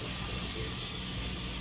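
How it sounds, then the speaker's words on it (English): A Pampered Chef spritzer sprays oil in a home kitchen, making a continuous close hiss that lasts through the whole short burst. "We've got our little Pampered Chef spritzer, and we're just gonna go ahead and spray"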